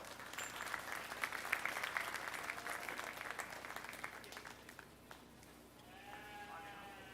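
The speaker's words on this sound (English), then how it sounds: "let's give these group of showmen a big round of applause" A crowd applauds at a junior fair sheep show for the junior showmen, steady clapping for about five seconds before fading, with sheep bleating afterward.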